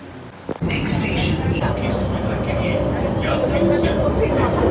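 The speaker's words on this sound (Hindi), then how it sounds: "मेट्रो से जा रहे हैं दिलशाद गार्डन।" A Delhi metro train ride toward Dilshad Garden gives a steady rolling rumble and hiss inside the carriage, with a brief knock near the start and people talking over it.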